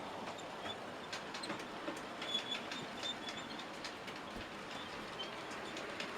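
A model railway Class 37 locomotive runs along uncleaned rails in a loft layout, a steady low rumble with faint rail clicks and wheel noise throughout, no talking.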